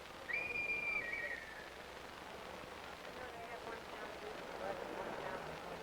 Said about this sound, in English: the police whistle and accompanying crowd surge gave McCabe his cue to cross